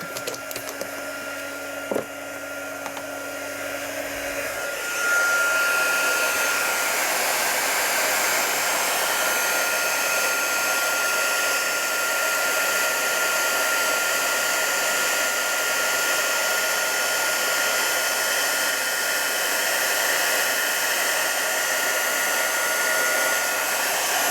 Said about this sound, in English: Right, let's get that heat set.